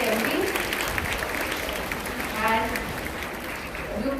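A school assembly audience applauds class 5B, a dense, steady patter of many hands clapping at moderate distance for a few seconds while voices murmur and talk over it.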